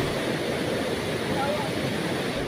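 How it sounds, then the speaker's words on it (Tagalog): Strong, rushing river water in Negros Oriental, swollen by typhoon rains, gives a steady, dense broadband roar that holds an even level throughout with no clear breaks. "Malakas din ang ragasan ng tubig sa ilog."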